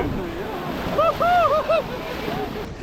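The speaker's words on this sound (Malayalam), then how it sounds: "അങ്ങനെ കുത്തി ഒഴുകണ വെള്ളത്തിൽ നല്ല പാറയുടെ ഇടി കൂടി കാടിന്റെ നടുവിൽ ഉള്ള അരുവി" River water rushes over rocks in a forest stream during rafting in Thailand, a constant close wash of noise with wind buffeting the microphone as a voice briefly calls out over it.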